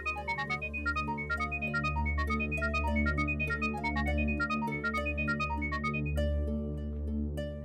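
A mobile phone rings with a repeating electronic melodic ringtone over a low, steady musical drone, sounding moderately loud and continuous throughout without any talking.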